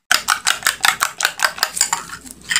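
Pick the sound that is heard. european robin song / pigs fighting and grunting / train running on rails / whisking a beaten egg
whisking a beaten egg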